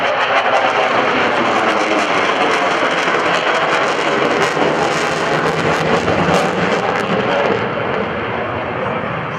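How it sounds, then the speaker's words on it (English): A Boeing F/A-18F Super Hornet jet roars through a maneuver during an airshow demonstration at NAS Oceana in 2012, producing a dense, continuous broadband roar that holds steady, then thins slightly at the end. "demonstrating the incredible capability of the F-A-18 Super Hornet"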